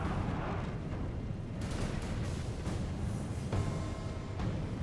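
In a battle video game, Irish troops open fire at will on a lone Scottish general, producing a dense, steady roar of rolling gunfire and booming volleys with sharper cracks breaking through.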